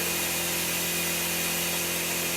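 A tire changer's arm swings away after its foot lever is pressed, giving a loud, steady mechanical whir and rush that fills the whole moment with no talking.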